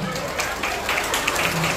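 Audience clapping for Najah at a gathering in Kuala Tunggal, Tanjung Jabung Barat, a brisk burst of hand claps with sharp individual slaps over a busy background.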